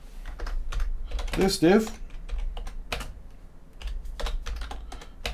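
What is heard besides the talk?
typing HTML code on a computer keyboard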